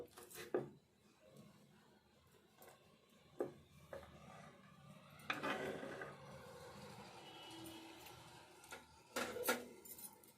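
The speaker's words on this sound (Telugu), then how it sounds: "మిర్చి అయితే ఇట్లా కట్ చేసి వండుకుందాము." A knife chopping green chillies on a board for chicken curry, sparse sharp taps with quieter rubbing and handling noises between them, close and soft, with no one talking.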